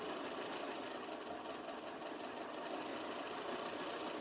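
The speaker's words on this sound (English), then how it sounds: "Gonna run over to the machine and sew it again." A sewing machine stitches a paper-pieced quilt block seam, backing into the quarter-inch seam allowance to secure it. The machine runs as a steady, fairly faint mechanical hum for about four seconds, alone with no talk.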